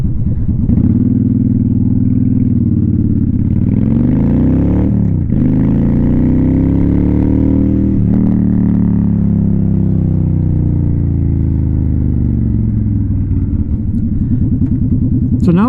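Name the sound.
Honda Shadow 750 motorcycle riding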